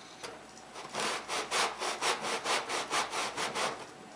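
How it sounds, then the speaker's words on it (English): A hand tenon saw cuts down the sides of a groove in wood with about a dozen even, rhythmic rasping strokes, close and clear with no talking. "I'm using my tenon saw to cut down the sides of the groove"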